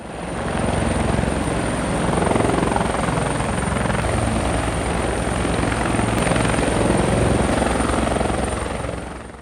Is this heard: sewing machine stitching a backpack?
no